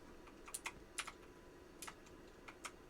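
Scattered clicks from a mechanical keyboard being typed on, quick irregular keystrokes in short bursts, fairly faint and close against a quiet room hum, with no talking.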